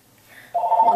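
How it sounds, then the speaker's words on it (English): A telephone starts ringing abruptly midway, a loud steady electronic warble that continues to the end after a faint quiet lead-in. "now the phone is ringing"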